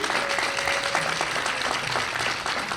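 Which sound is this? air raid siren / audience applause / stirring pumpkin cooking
audience applause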